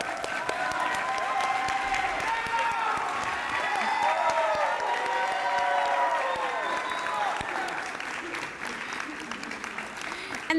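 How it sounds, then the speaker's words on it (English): A crowd at a high school letter of intent signing for a cheerleader applauds and cheers, clapping blended with excited voices and high shouts, sustained and loud before tapering off near the end. "Let's keep that applause going"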